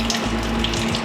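Water squeezed and wrung out of salted napa cabbage for red kimchi, a steady close splashing trickle like a running tap draining into a basin, continuous and fairly loud with no talking.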